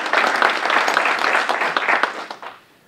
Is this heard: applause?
yes